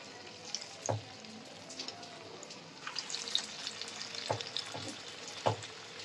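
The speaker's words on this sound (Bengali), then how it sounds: "এই যে তেল গরম হয়ে গেছে, এবার তেলের মধ্যে দিয়ে দেবো" Masoor dal fritters frying in hot oil give a steady, close crackling sizzle, with a few sharp pops and spatters scattered across the clip; no one speaks.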